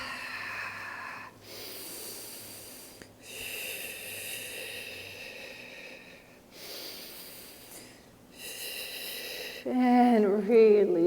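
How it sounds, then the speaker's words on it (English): Slow, audible breaths in and out during a pilates mat exercise, several long airy inhales and exhales close to the mic, followed at the end by a brief burst of voice. "Breathe in and out."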